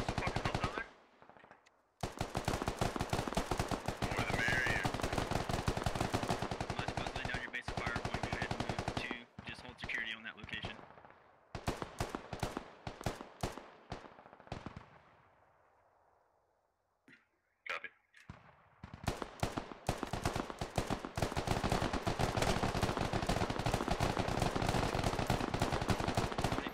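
Heavy machine-gun fire from a squad in the Squad video game rattles in long, loud sustained bursts, broken by gaps of near silence before more rapid volleys, with voices faintly underneath.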